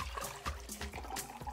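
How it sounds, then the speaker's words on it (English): Water splashes and trickles into a glass in a short burst of gurgling, uneven pouring that is close and fairly quiet. "The first thing you need to do is to add water into your glass,"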